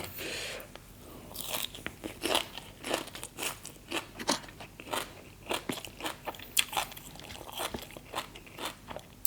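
Close, crisp crunching as fresh kale is bitten and chewed alongside cockles with a fermented fish dipping sauce, with steady repeated bites and no talking.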